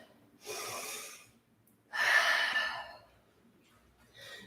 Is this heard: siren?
no